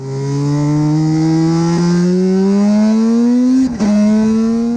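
A motorcycle engine revs loud and close, its pitch climbing steadily through the gears with one brief shift dip near the end, and no voices over it.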